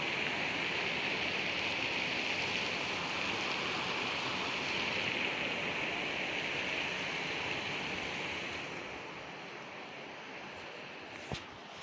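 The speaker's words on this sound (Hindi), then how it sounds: "और बाहर देखो भाई, तुम हालत देखो बारिश की।" Heavy monsoon rain pouring outdoors onto a flooded road: a dense, steady hiss of falling water that stays even for most of the stretch, eases slightly near the end, and is broken by one brief sharp click.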